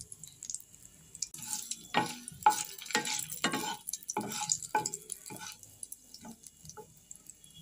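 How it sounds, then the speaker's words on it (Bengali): Whole garam masala, dried red chilli and bay leaf temper in hot oil in a kadai, giving intermittent bursts of crackle and sizzle with stirring scrapes, fairly quiet and separated by short pauses. "এই তেলের মধ্যে আমি এবার দিয়ে দিচ্ছি গোটা গরম মশলা, শুকনো লঙ্কা আর তেজপাতা ফোড়ন দিয়ে দিলাম।"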